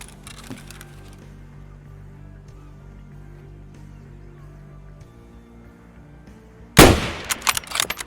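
Single loud, sharp rifle shot in the game Escape from Tarkov, fired at a rogue near the lighthouse, followed by a brief echoing tail after several seconds of quiet ambient hum.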